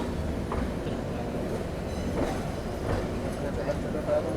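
A Shatabdi Express on the New Delhi–Amritsar route, heard from an AC chair car, rolls into New Delhi railway station with a steady, close rumble and faint wheel clatter throughout.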